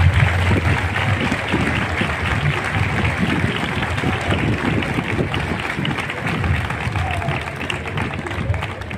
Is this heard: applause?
yes